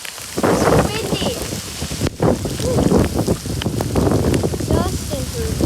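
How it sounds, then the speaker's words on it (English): Strong derecho wind gusts roaring and buffeting outdoors with rain hitting surfaces, loud and turbulent throughout, with voices talking over the storm. "It's windy."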